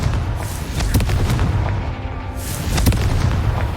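In the video game Hogwarts Legacy, the Confringo fire spell erupts in loud, booming blasts, two sharp explosive hits over a dense rumbling background with no voice.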